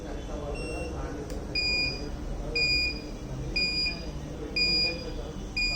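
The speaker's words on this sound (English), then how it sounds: "buzzer alert when time duration become less." A coin-operated mobile charging system with a step-down transformer gives a buzzer alert as its time runs low: a series of short, evenly spaced high-pitched beeps, about one per second, over a steady electrical hum.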